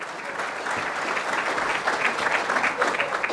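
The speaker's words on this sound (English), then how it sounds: "let's give them a round of applause and welcome Hardik Bhatt" Steady applause from a city club audience welcoming Illinois's incoming state CIO to the stage, a dense, even wash of clapping that holds at full strength for the whole stretch with no voices over it.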